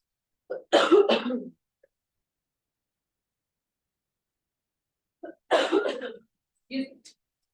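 Two bursts of throat clearing and coughing, close up, separated by several seconds of silence, with a shorter rasp at the end.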